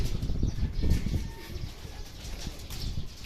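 Racing pigeons land during a training flight in Aliaga, Nueva Ecija, with a low, close cooing and some wing flutter over a steady outdoor background, with no talking.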